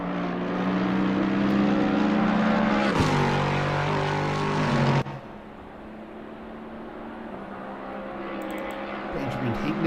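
Race car engines roar loudly in the Assetto Corsa Competizione racing game at Spa, a sustained high drone that drops abruptly partway through and then continues more softly under a commentator's voice.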